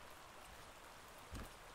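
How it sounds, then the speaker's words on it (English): Steady rain falls in ARK: The Island Ascended, a continuous soft hiss of drops on surfaces with a brief thump near the end, no voices. "Here comes the rain."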